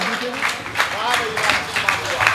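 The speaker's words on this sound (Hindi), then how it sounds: "एक बार जोरदार तालियां बजा दीजिए हंसराज जी के।" Enthusiastic audience applause for a performer at a Hindi comedy poetry show, a sustained rattle of many hands clapping with scattered voices and cheers mixed in, loud and close.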